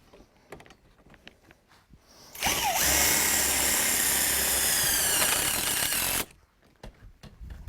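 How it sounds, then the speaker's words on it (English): A power driver sends a self-tapping screw into the top rail of a 10x10 DIY greenhouse. Light clicks and handling come first, then a loud, close whirring burst of about four seconds that stops abruptly, followed by more faint handling noise. "Use another self-tapping screw."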